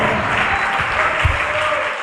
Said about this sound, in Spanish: Dele ese aplauso al Señor con todo su corazón.